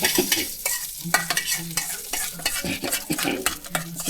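Oil sizzles steadily in a pan as spices are tempered for ginger chutney, with a spoon stirring and scraping against the metal in quick, irregular strokes.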